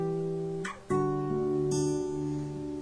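Guitar tuned down a whole step to D plays the opening of a song, sustained ringing notes with a few sharp plucked attacks, close and clear with no talking.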